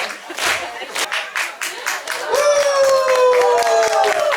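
Audience at a caravanners' gathering on Saaremaa clapping in a steady rhythmic pattern, with a sustained tonal music line entering partway through as the clapping continues.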